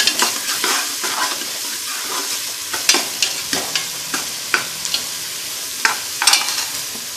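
Vegetable palav masala frying in oil in a pan while a spoon scrapes and stirs it, steady close sizzling broken by sharp metallic knocks of the ladle against the pan.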